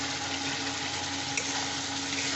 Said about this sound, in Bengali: এই বাটিটা ধুয়ে জল দিয়ে দিচ্ছি